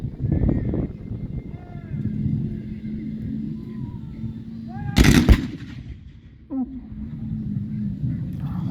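A cannon at an American Civil War reenactment in Suffolk fires one loud, sharp boom that rumbles away across the open showground, with people talking before and after the shot.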